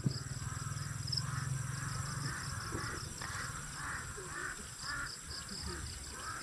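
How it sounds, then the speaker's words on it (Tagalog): Several crows caw repeatedly at a distance over steady insect buzzing and plantation ambience, with a low hum early on. "Pagkadaming uwak ho."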